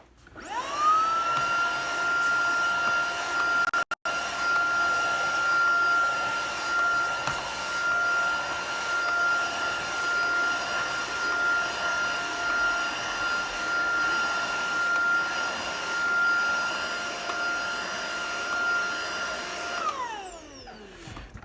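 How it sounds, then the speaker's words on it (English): Tineco cordless vacuum cleaner with just the upholstery tool fitted, running on upholstered chairs: a steady high-pitched motor whine with a brief cut-out early on, holding level before spinning down at the end, close and loud without talk. "Now we're going to vacuum these chairs here."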